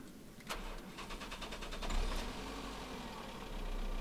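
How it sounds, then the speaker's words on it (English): A car engine with a weak battery cranks in a rapid, labored series of turns for under two seconds, then catches and settles into a steady idle, heard close up. "I'm going to start the engine here, so you can see the engine start on the video"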